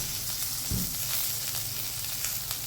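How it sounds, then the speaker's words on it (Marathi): Garlic and peanuts frying in oil with onion give a soft, steady sizzle with a faint stirring bump near the start, quiet and close, no voices. "आपलं लसूण देखील भाजला जातो आणि शेंगदाणे सुद्धा फ्राय होतात ते छानपैकी."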